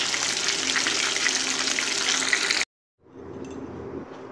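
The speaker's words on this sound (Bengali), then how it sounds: "মাত্র 3-4 মিনিটেই কিন্তু মাছগুলো ভাজা হয়ে গেল, আর আমি এখন তুলে রেখে দেব।" Pomfret fish sizzle in hot oil, a loud, dense, steady crackle that cuts off abruptly, then returns as a softer frying hiss.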